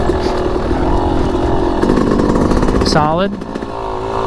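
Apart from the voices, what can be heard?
Yamaha YZ250X two-stroke dirt bike engine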